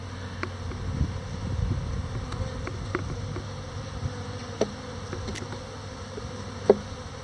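Honeybees buzz around an open hive while a beekeeper inspects frames of pollen, honey and capped brood, making a steady close insect drone with scattered faint clicks and knocks.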